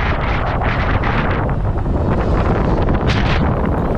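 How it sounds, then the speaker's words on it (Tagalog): Strong wind roars and buffets loudly and continuously against the microphone while a motorcycle is ridden on an open road. The gusts swell and fade, and no voice is heard. "Sobrang lakas ng hangin sa part na to mga tropa"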